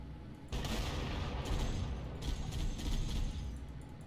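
Rapid automatic gunfire from the Halo video game opens after a brief pause and continues as a dense, loud burst with slight pulses, without any talk over it.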